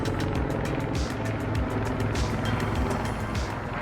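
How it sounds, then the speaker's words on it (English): A military helicopter-like aircraft flies overhead outdoors, its rotor thumping in a steady rapid pulse over a loud, continuous low engine roar that fills the whole stretch. "that thing in the air is awesome. It's like a military helicopter plane."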